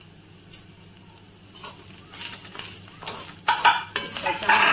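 Onion, four green chilies, ginger and garlic sauté in a pan, with soft sizzling beneath repeated scraping and clinking of a utensil against the pan that grows louder toward the end.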